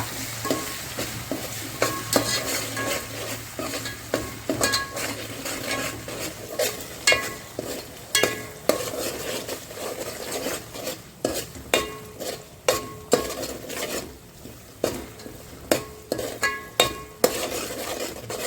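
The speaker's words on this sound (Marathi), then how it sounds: "बारीक चिरलेला एक टोमॅटो तो पण चांगला परतून घ्यायचा" Finely chopped tomato is sautéed in a pan for a traditional Kolhapur-style bhogi vegetable dish, with a low sizzle under repeated sharp spoon scrapes and taps against the pan in an uneven rhythm, no voices.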